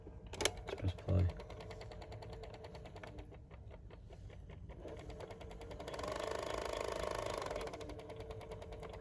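A Fostex X-12 cassette machine fitted with a pitch control mod runs in playback, a soft motor whir with a brief clunk of the transport at the start, the hum swelling slightly later on.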